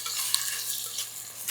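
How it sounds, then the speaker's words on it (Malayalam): Curry leaves, onion, chopped beans, drumstick and green chilli for a Kerala dried-prawn theeyal sizzle steadily in a pan while being stirred, a dense continuous hiss with a faint clink near the end. "ഇനി ഇതെല്ലാം കൂടി ഒന്ന് ഇളക്കി"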